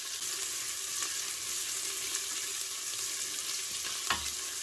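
Chopped onion frying in a drizzle of olive oil inside a Cookeo multicooker makes a steady, even sizzle with a single knock or scrape near the end, no speech.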